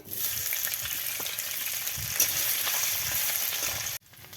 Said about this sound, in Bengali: তো বন্ধুরা, আমি পনিরটা ভেজে নিচ্ছি।